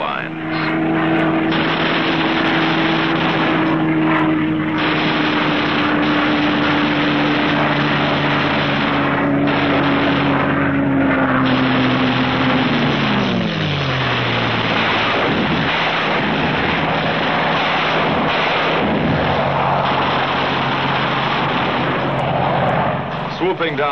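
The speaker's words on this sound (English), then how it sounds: "Skimming along at maximum speed, the fighters pair off and go to work" WWII fighter planes fly at maximum speed with a loud, continuous engine and propeller roar, and the pitch sinks as they sweep past, heavy and close throughout.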